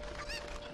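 A cucco chicken in Zelda: Ocarina of Time gives a single short, bright cluck over a steady game background, quick and fairly close.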